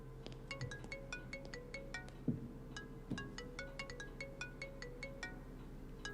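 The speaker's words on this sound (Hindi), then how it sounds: "ए, मेरा फोन है, लेकर आ।" A mobile phone rings in a police station, a repeating electronic ringtone melody with bright regular pulses, steady and moderately near over a quiet room with faint bumps.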